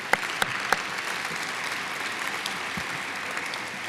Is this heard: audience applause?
yes